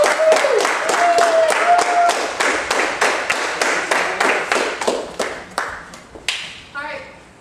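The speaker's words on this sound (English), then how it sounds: "Let's give Chris a big round of applause" An audience applauds a game show contestant with a run of loud, regular, close claps that gradually slow and thin out toward the end.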